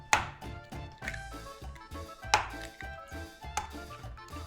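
Milk and eggs being mixed in a bowl for quiche, with light rhythmic taps and clinks of the utensil against the bowl, close and fairly quiet, no voices.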